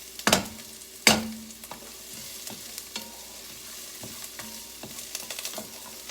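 Pressed garlic for chicken tortilla soup hits a hot pan, opening with two sharp clatters, then a soft steady sizzle broken by scattered light scraping and stirring taps, close by and with no talk.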